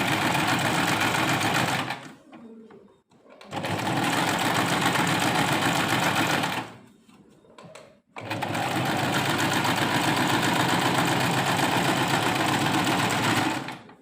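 A sewing machine stitches fabric in three long runs of rapid, steady mechanical whirring, loud and close, separated by short pauses filled with quiet handling noises.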